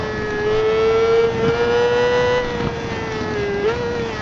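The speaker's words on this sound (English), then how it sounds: "let me engine brake it here" A 2004 Kawasaki ZX-6R 600 cc sport bike engine-brakes at speed, its loud, steady high-pitched whine drifting slowly down in pitch with wind noise and no talking.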